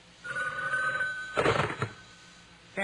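A telephone rings in an office, heard as a close, steady electronic ringing tone, followed by a short burst of clattering handling noise as the receiver is picked up.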